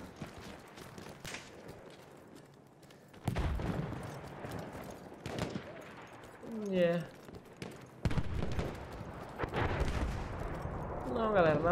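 Gunfire in the Battlefield 1 video game on the Fao Fortress map, bursts of shots at intervals over a background of distant battle noise, with a player talking over it.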